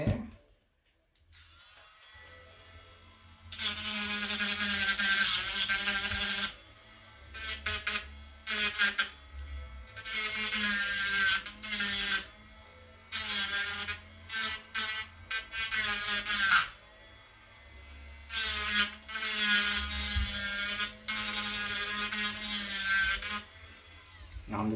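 A rotary tool with an aggressive bit grinds a robot waist part in repeated bursts separated by short pauses, a steady whining buzz loud and close.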